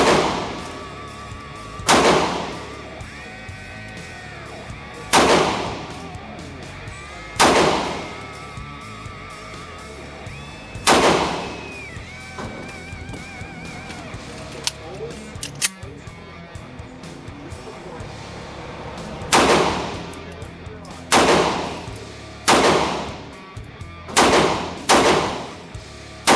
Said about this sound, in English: Now that you've seen that range footage, like I said, it does shoot like a much bigger gun than it is.